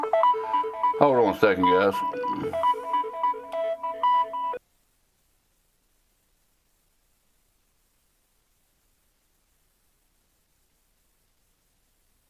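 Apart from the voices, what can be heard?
phone ringing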